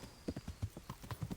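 Horse hooves clop in a steady rhythm while riding in the medieval RPG Kingdom Come: Deliverance, about a dozen close, even thuds with no talk over them.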